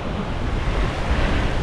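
Ocean surf along a tropical fishing coast gives a steady, loud broadband wash of rushing waves mixed with wind noise against the microphone, with no voices.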